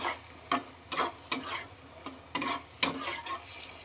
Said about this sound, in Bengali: এবার আবার একটু আমি নেড়ে নিচ্ছি।